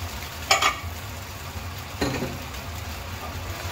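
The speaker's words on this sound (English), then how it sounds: "Now stir gently" Mud crabs sizzle and fry in a wok while being stirred, two sharp scraping clatters standing out over a steady close hiss, with no talking.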